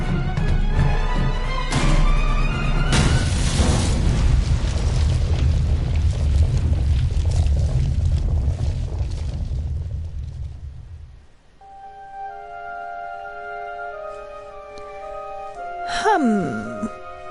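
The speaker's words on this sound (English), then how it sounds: "It's a pipe bomb. Take cover!" A pipe bomb explodes in the game The Raven: a long, loud rumbling boom that rolls on for several seconds before fading into quiet tonal music, with a short burst of voice near the end.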